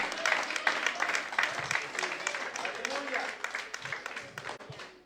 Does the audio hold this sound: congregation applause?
yes